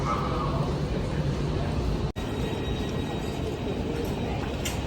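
A train at a railway station in Germany gives a steady, loud rumble and hiss that fills the whole stretch, with one brief dropout partway through and a faint murmur of the station in the background.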